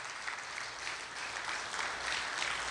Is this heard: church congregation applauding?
yes